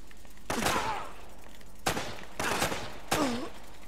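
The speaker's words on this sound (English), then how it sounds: "They're shooting at you too, you know" Enemy gunfire in the video game Uncharted: Drake's Fortune comes in several loud, sharp bursts of rapid shots spread over a few seconds.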